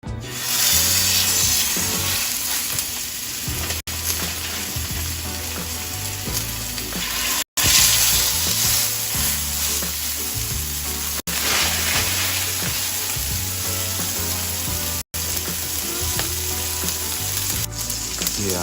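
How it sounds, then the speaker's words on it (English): Steak sizzling loudly in a hot pan, a steady, close frying crackle lasting throughout with a few brief cuts in the sound. "I wanted y'all to hear that nice sizzle for a second"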